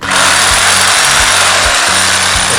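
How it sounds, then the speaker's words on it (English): A Sawzall reciprocating saw cuts through deck boards, a loud, harsh, continuous buzzing rasp close by with a rapid stroke rhythm and brief dips as the blade binds. "Sawzall."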